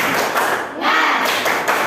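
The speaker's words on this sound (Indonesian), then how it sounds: "Tepuk semangat." A classroom of students clapping a rhythmic spirit-clap chant, loud and close, with bursts of claps running together throughout.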